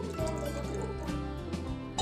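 Water poured into a pot of Karnataka-style mosaru sambar, a steady close pour lasting about two seconds with a faint hum beneath.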